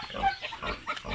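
A pig grunts at feeding time, a short run of close, low snuffling grunts in quick succession with no talk over them.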